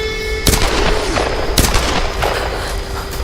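Enemy gunfire in the Tomb Raider video game: two sharp loud shots about a second apart over dense game noise and rumble, with scattered smaller crackles and no talking.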